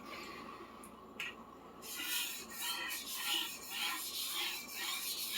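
An old Henckels Twinworks chef knife sharpened on a stone, heard as close, rhythmic strokes of abrasive scraping that repeat steadily after a few quieter touches.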